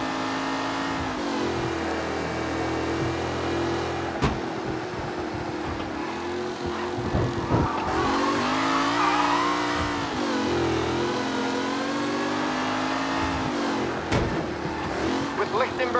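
Race cars from Mafia Definitive Edition roaring along a track, engines revving and shifting in rising and falling whines, loud and close, with a commentator-style voice talking over the engine noise and occasional sharp clunks.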